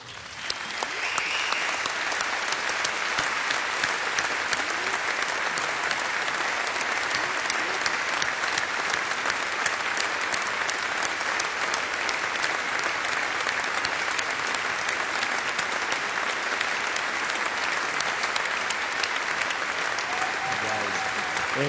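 A large audience at the unveiling of the Solar Impulse solar airplane gives the team long, sustained applause, a dense continuous roar of clapping at constant strength with voices faintly mixed in.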